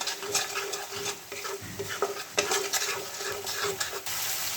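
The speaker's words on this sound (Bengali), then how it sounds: "এটাকে আবারও ভালো করে নাড়িয়ে নেব" A spoon stirs and scrapes spice paste in a sizzling pan for a Bengali-style pepper fish curry. The stirring is close and steady, with frequent scraping strokes over a continuous frying hiss.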